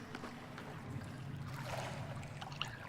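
Faint, steady rushing of running water in The Forest video game, a low continuous wash with no clear breaks.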